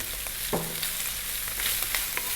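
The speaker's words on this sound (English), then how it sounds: "Really fry the rice." Cooked cold rice frying on high heat with peas for prawn fried rice, a steady bright sizzle punctuated by a few stirring scrapes.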